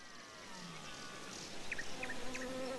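Insects buzz steadily in the overgrown Chernobyl exclusion zone, a faint outdoor drone with short chirping calls repeating near the end, no voices.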